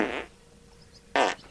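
Two short, loud farts ring out, one at the start and another after a quiet pause, each a brief raspy burst with nothing else heard.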